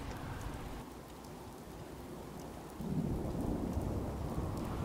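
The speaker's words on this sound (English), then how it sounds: "I love rain in real life. I don't like rain so much in the game." Steady rain with rumbling thunder from a Fallout 4 game modded with Sim Settlements 2, a continuous wash of downpour that swells louder partway through, with no talking.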